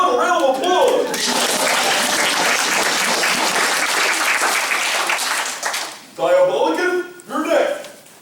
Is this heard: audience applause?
yes